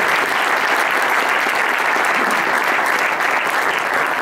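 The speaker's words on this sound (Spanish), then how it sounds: "pido un fuerte aplauso de éxito para el Congreso" Loud, sustained applause from a large audience at the opening of a communities congress and Smart Activa 2017 fair, a dense steady wash of clapping throughout with no talk.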